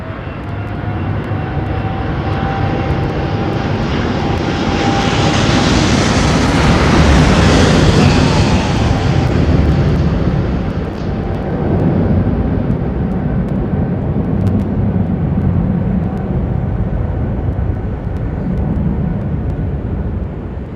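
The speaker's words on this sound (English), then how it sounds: "those outbounds are overriding the sound of the arriving aircraft, even when they're right over the top" A jet aircraft at London Heathrow Airport roars past, its broad engine rumble swelling to a loud peak overhead and then fading into a steady distant roar of other planes.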